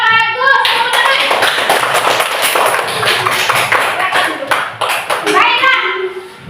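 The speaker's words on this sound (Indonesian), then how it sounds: "Tepuk tangan." A classroom of young children claps together in quick rhythmic bursts, with their voices chattering at the start and end of the sustained clapping.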